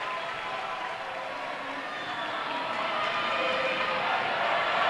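A crowd of students and fans fills a gym at a girls' 3A state volleyball semifinal, a steady wash of chatter, cheering and clapping throughout.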